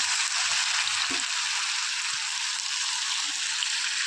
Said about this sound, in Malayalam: ബാക്കി ഉണ്ടായിരുന്ന ചക്കച്ചുളയും ഞാനിപ്പോൾ ഫ്രൈ ആക്കാനായിട്ട് ഇട്ട് കൊടുത്തിരിക്കുകയാണ്.